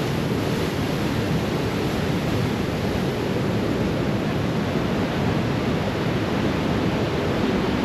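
Ocean surf rolls in beneath towering cliffs on Rurutu in the Austral Islands, a broad continuous roar of breaking waves mixed with some wind buffeting the microphone, steady throughout and free of speech.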